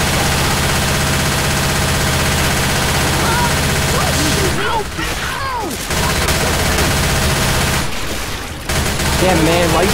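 Rapid bursts of automatic gunfire from the Left 4 Dead 2 video game fill most of the stretch, loud and sustained with two brief pauses, while shouting voices cut in between.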